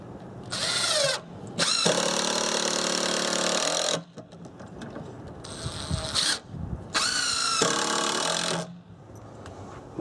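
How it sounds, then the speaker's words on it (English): A power drill drives the final screws into a cargo trailer camper build, three long whirring runs with pauses between them and quieter handling noises in the gaps. "So let's run in the final screws here."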